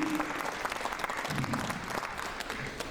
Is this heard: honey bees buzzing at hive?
no